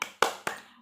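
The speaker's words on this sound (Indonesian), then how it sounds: "ayo kita tepuk bersama-sama" Two sharp hand claps about a quarter second apart, close and crisp, as a teacher demonstrates the Indonesian 'tepuk keluarga' children's clapping rhyme for early childhood education, with no talking.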